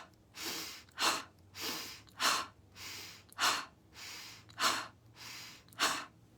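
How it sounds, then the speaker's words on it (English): Bellows breathing done alone and close up: repeated forceful breaths drawn in through the nose and pushed out through the mouth, about nine strong rhythmic puffs over several seconds, steady and energetic. "the bellows breath is very helpful too for energizing"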